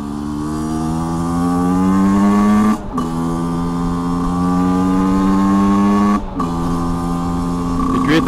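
An HM CRM125 motorcycle engine drones steadily at cruising speed, loud and close, with two brief dips where the rider shifts gears before the pitch climbs again.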